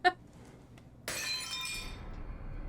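Glass-like object shattering when picked up in the video game SOMA, a short click followed a second later by a bright crash and tinkling debris that trails off, moderately faint.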